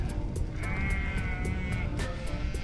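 Sheep bleat outdoors near a camper, one drawn-out nasal bleat rising clearly over a constant background hiss, with a shorter call following.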